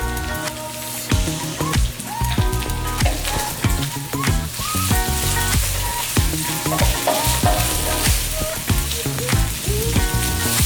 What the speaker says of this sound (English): I will wait for this meat to be, caramelized.